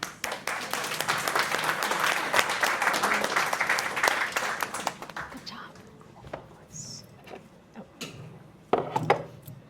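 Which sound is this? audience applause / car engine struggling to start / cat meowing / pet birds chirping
audience applause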